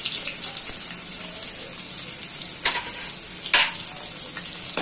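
Onion and garlic fry with cumin in a pan for chole chaat, producing a bright continuous sizzle with light stirring scrapes and two louder clatters near the end.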